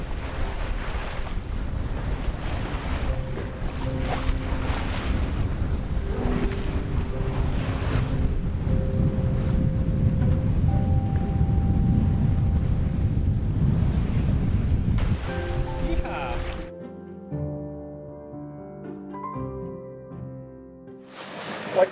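A sailboat motors at sea off the north of Sardinia, with a steady wash of waves and wind roaring over the microphone and the engine droning beneath. The noise drops sharply toward the end, leaving faint tonal sounds.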